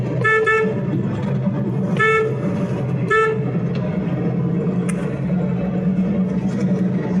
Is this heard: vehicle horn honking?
yes